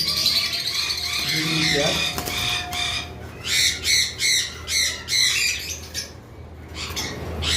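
Pet birds squawking at a bird farm, a pair including a white-faced female and a yellow-faced male, giving loud, close, harsh rhythmic calls in a run of repeated bursts amid other chirping, with someone talking at first.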